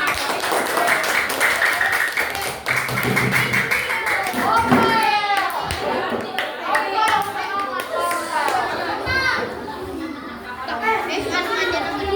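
A classroom of schoolchildren claps hands in a burst of applause, dense and close, mixed with overlapping children's chatter and voices that continue as the clapping fades.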